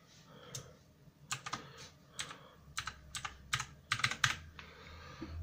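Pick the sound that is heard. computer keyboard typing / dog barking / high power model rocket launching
computer keyboard typing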